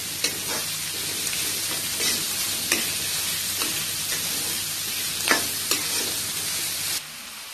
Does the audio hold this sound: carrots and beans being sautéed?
yes